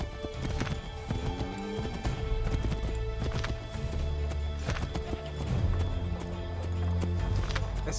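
A horse in the Assassin's Creed 3 video game gallops with rapid, rhythmic hoof clip-clops close by, with an occasional whinny and a low rumble beneath.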